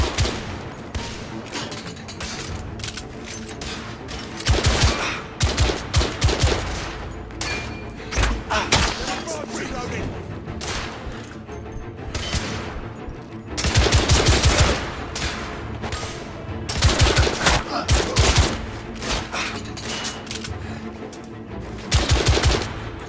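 Shotgun and rapid gunfire in The Order: 1886, a coach gun battle, with dense, loud repeated blasts clustering in several heavy volleys across the fight.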